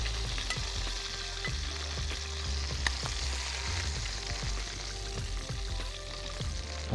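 Slices of beef sizzle and fry in a hot pan, a dense, steady crackle with the scrape and clatter of stirring close by, and no one talking.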